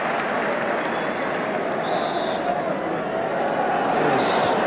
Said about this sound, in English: thoroughly deserving the round of applause he's got from the crowd